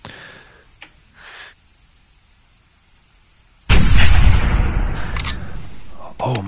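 A single loud hunting-rifle shot in the video game The Hunter cracks close by after a few quiet seconds, followed by a long rolling echo that fades out slowly.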